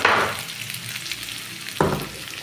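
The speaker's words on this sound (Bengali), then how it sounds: "পেঁয়াজটা একটু ভালো মতন ভাজা হয়ে গেছে" Onion fries in a pan with a close, continuous crackling sizzle, broken by a brief burst of louder spattering near the end.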